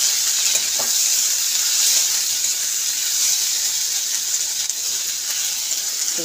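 Ginger, green chili and tomato frying together in a pan for tadka dal, giving a steady, close sizzle and hiss with a few faint stirring clicks and no talking.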